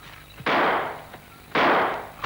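Two loud, sharp gunshots from a fight scene in a Tom Sawyer story, spaced about a second apart, each a sudden broadband blast with a short decaying tail, heard alone with no talk.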